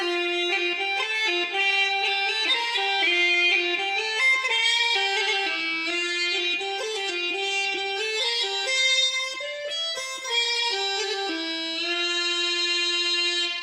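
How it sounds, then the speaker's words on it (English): A reedy, bright uilleann pipes chanter plays a continuous flowing melody, solo and steady, with no drones underneath. "8 bars of a melody, it's just on the chanter, it sounds like this."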